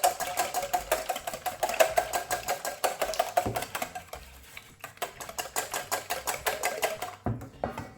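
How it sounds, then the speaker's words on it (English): A wire whisk beats eggs in a bowl, a steady, rapid clatter of light ticks at close range that pauses briefly midway, then resumes and ends abruptly. "we're just gonna whisk these eggs now."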